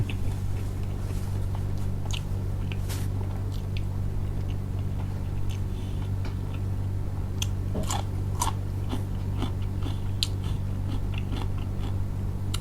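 Crunchy raw purple eggplant bitten and chewed up close, a series of crisp crackling bites and chews over a steady low background hum, served as a fresh vegetable alongside shrimp-paste chili dip, fried cha-om omelette and grilled mackerel.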